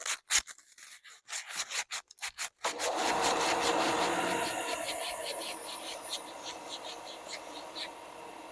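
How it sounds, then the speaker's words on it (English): Rough, repetitive hand sanding of small wooden pieces with sandpaper, starting with a few short scrapes and then settling into a steady, close scratching that continues throughout. "So I'll go ahead and sand this off."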